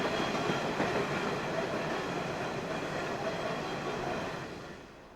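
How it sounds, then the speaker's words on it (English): Big Pacific steam locomotives rolling through Thornton on a railway at sunset: a steady, broad rumble of rolling wheels that holds even and then slowly fades as the train passes. "As the sun sets, the big Pacifics roll easily through Thornton"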